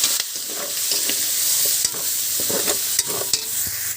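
Bottle gourd sautés in a hot pan with pork and fish sauce, a loud, close, continuous sizzle broken by the scrape and clatter of a utensil stirring the contents.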